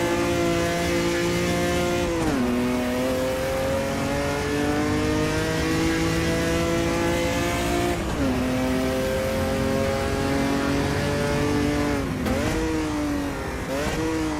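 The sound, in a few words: Opala 86 race car engine downshifting, video game Automobilista 2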